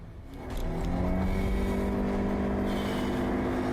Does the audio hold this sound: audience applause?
no